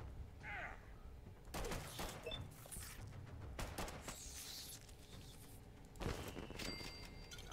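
Gunfire in the video game Fallout Shelter: several sharp, loud bursts of shots crackle at irregular intervals over a constant rumbling game background, with a final cluster near the end.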